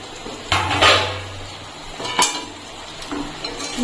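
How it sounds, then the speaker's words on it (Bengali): A cooking pot lid is lifted off mutton simmering on a medium gas flame, giving a few sharp metallic clanks and scrapes spaced over several seconds, close and fairly loud. "এখন আমি ঢাকা তুলে নিচ্ছি।"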